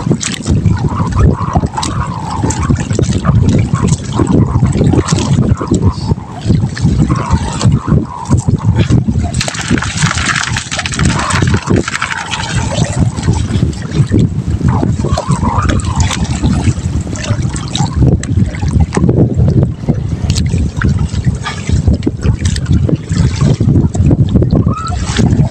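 Strong wind buffets a small boat at sea, roaring and gusting continuously at close range while water splashes and sloshes against the hull, with faint voices now and then.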